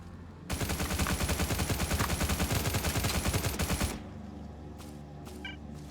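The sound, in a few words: gunfire in video game Stalcraft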